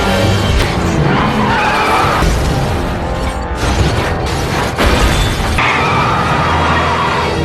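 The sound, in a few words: car skidding out of control on spilled oil and overturning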